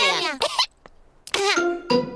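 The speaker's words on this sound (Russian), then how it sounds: "Кашель у Педро заразный." A cartoon character in a Peppa Pig episode coughs in two separate bursts, each made of a few sharp, voiced hacks, loud and close with a short silence between them.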